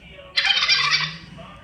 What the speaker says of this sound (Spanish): ¿Cómo hace el pavo?